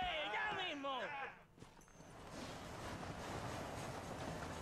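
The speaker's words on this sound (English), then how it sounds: "Hurry! The train is getting away!" A steam-era train runs along the tracks in Red Dead Redemption, a steady rumbling clatter with rhythmic wheel noise that takes over after a voice speaks briefly at the start.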